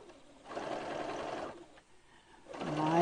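A sewing machine stitching pairs of fabric squares together for a Duck Duck Goose quilt block, close and moderately loud, running in two short bursts with a brief pause between and a whirring restart at the end.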